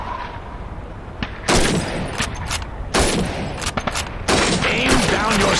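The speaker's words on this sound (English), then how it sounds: "for long-range targets, a rifle is better. Step up to the shooting range. Ready, comrades? Shoot those bottles and plates." Rifle fire on a Soviet training shooting range in Call of Duty 2, loud bursts of overlapping shots starting in clusters around each other, with dense crackling gunfire between brief gaps.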